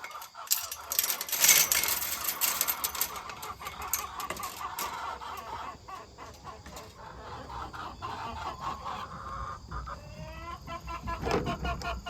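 Backyard farm chickens cluck and murmur steadily around a coop at sunrise, with a rustling, busy texture that runs throughout, joined by a few brief clinks and scrapes.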